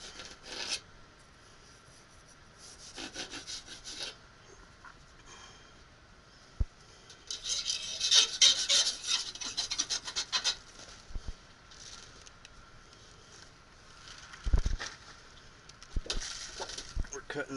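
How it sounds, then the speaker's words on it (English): Duct insulation is cut to notch out a joist bay, with intermittent rasping and rubbing strokes at close range and a few soft knocks, alternating with quieter pauses. "We're cutting this notch out for the joist bay, cutting it out of the insulation"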